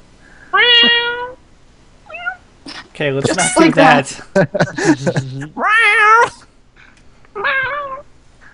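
A pet cat meows loudly and insistently around feeding time, several drawn-out meows near the microphone, with a person talking briefly between them.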